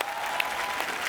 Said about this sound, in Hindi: आप सबकी जोरदार तालियों के बीच स्वागत करना चाहूंगा म्यूजिक डायरेक्टर अनु मलिक साहब